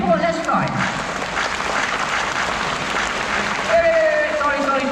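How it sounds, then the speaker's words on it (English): An audience claps in a steady, dense patter at a sea lion show at Singapore Zoo, with a voice talking over the applause. "Now you all can try to clap as much as you want to distract him."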